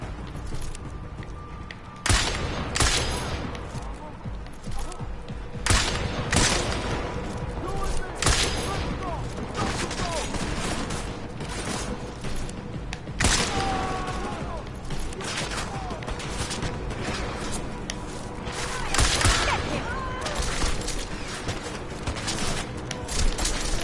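Sustained bursts of gunfire from Deus Ex Mankind Divided ring out in repeated volleys and sharp cracks throughout, with mechanical clatter between shots and some low game dialogue mixed in.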